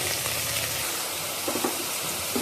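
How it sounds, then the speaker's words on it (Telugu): Cassava pieces frying in a pan for curry, a dense, loud, close sizzle with a couple of small pops and stirring noises, no voices. "ఇప్పుడు పెండ్ల ముక్కలు వేసేసుకుందాం"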